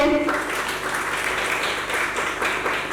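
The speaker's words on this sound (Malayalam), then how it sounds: "അവരെ നമ്മള് കൈയടിച്ച് പ്രോത്സാഹിപ്പിക്കേണ്ടതാണ് കൈയടിച്ചേ" An audience claps together at a ceremony honouring SSLC and Plus Two exam winners, a steady, fairly loud burst of applause lasting a few seconds.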